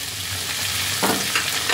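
Chopped vegetables and large chunks of tomato fry in hot oil for chili paneer, giving a steady close sizzle with a burst of louder crackle and spatter partway through.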